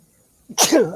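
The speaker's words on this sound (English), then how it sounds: "I'm about to sneeze, y'all." A short wind-up breath followed by one loud, close sneeze, trailing off into a voiced tail.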